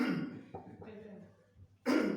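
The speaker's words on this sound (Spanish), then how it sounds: "Es que estoy un poco con la tos." Two harsh coughs, one at the start and one at the end, with quieter breathy sounds in between.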